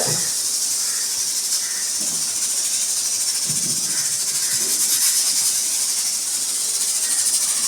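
A pressure cooker cooking mutton curry lets out a loud, continuous high steam hiss from its whistle, steady throughout, with faint kitchen clatter underneath.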